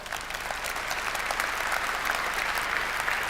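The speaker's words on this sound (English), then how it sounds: "the whole team at Comic Relief really deserves a round of applause" Sustained applause from a conference audience at the close of a session, steady dense clapping filling the room throughout.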